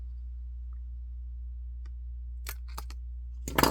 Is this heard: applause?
no